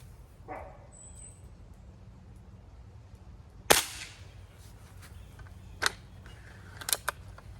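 An Air Venturi M1A Garand .177 underlever air rifle firing lead pellets gives a sharp, loud crack near the middle, then two or three softer snaps later over a quiet background hum.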